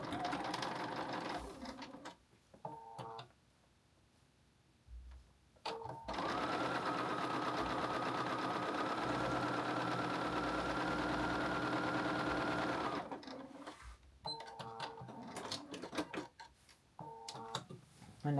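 A sewing machine stitches a seam on an oversized blazer, its needle ticking in a fast, even rhythm in long runs broken by pauses, close and clear with a voice talking in the gaps.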